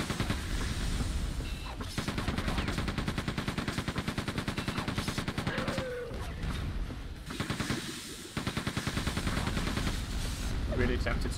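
Rapid gunfire in the Quake II video game, heard as long bursts of fast, evenly spaced shots that break off briefly and then resume, loud and close throughout.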